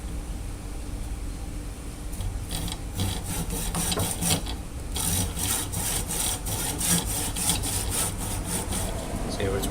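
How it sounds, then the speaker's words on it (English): A wooden hatchet handle is sanded by hand, with rapid rhythmic rasping strokes in bursts that grow steadier and louder midway, close to the microphone over a faint background hum. "I'm going to sand it down the rest of the way."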